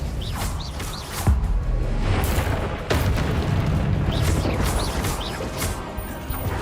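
Confringo fire-blast spell explosions in the Hogwarts Legacy video game: repeated heavy booms and crashing blasts over a constant rumbling bed, with sharp impacts landing every second or two, loud and close.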